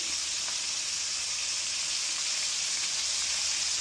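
Catfish nuggets and onion fry in hot oil, giving a steady, even sizzle with faint crackles that holds at a constant level from start to finish, with no voices.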